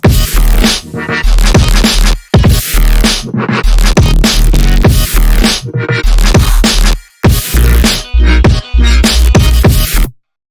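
A loud electronic music drop from a remix, with heavy, pounding bass and dense synths, punctuated by brief gaps and stutters.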